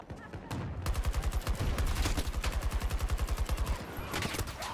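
Rapid automatic gunfire rattles through a Battlefield 2042 Breakthrough match, a long loud burst of evenly spaced shots close by, joined by scattered other shots and a brief voice near the start.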